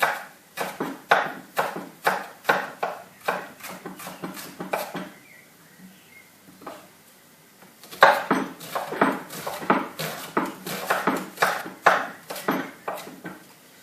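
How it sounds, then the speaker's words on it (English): A knife slicing a vegetable into thin slices on a board, a brisk series of sharp clicking cuts in two runs separated by a brief quiet pause, close and clear with no speech. "this enables you to cut reasonably thin slices"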